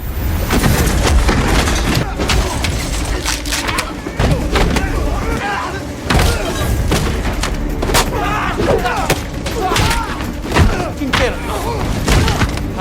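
A building blown apart in an action film: dense booming blasts and crackling debris with gunfire-like bursts run loud and continuous throughout, with voices mixed in underneath.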